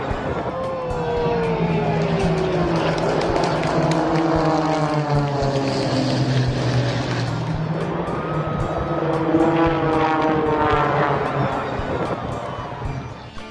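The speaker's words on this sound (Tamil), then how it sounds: "அப்போ 3 சிறிய விமானங்கள் கீழே மக்களுக்கு ரொம்ப நெருக்கமா வந்து போயிட்டு இருந்துச்சு." Steady, loud engine drone of small propeller planes flying low over water near a crowd, with pitch sweeping up and down as they pass close by and continuous background noise throughout.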